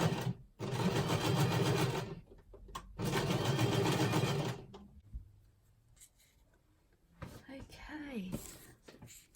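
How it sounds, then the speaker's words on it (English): A sewing machine stitching around a paper journaling card runs in two steady bursts of rapid mechanical whirring, close and clear, followed by quieter handling noises and faint talk. "Okay, so I'm just going to sew around this."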